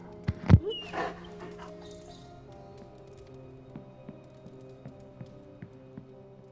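A dog gives one short, sharp bark or yelp near the start, then only a few faint soft noises remain over a quiet, humming room.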